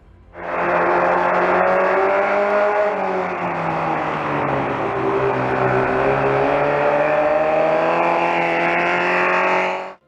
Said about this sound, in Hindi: इस मिनी बाइक को देखना बड़ा अजीब लगता है, लेकिन स्पोर्ट्स बाइक जैसी आवाज करती है